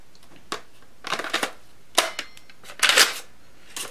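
A Nerf Elite Retaliator blaster is fired several times, giving short crisp snaps and springy clatters spaced irregularly, close and fairly loud, with no talking.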